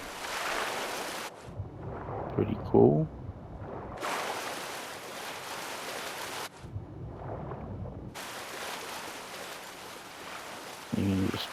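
Rushing waterfall in the video game Fallout 76, a steady broadband roar of falling water that cuts in and out in long blocks, with brief quieter gaps where a voice speaks and small splashy knocks.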